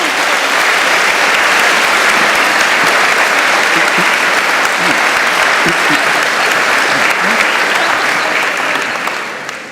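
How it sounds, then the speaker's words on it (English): Loud, dense audience applause after a talk with an evolutionary biologist, sustained and even for nearly ten seconds before tapering off at the very end. "quick round of applause for the little discussion we had there"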